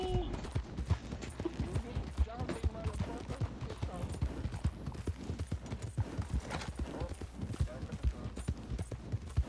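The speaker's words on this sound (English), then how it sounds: "I wonder where this horse will take us." Horse hooves in a video game clip-clop in a quick, steady rhythm close by, with murmuring voices and other game sounds mixed underneath.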